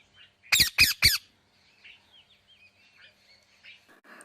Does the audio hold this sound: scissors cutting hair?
no